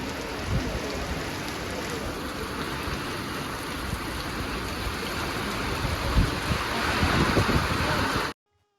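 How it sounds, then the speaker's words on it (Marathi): Heavy rain pours down outside while sheltering under a chawl roof on a village road, a dense continuous roar of drops spattering nearby, building slightly louder toward the end before cutting off abruptly. "बघ किती छान पाऊस चालू झाला"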